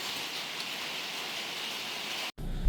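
Steady rain pours down in an outdoor setting, a dense even hiss that holds unbroken for over two seconds before cutting out briefly and returning louder.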